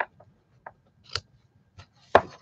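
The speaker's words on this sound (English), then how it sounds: "Let me snip some of that off." A few quiet, separate snips of ribbon scissors cutting ribbon, spaced irregularly, the last one sharper and louder, in an otherwise quiet room.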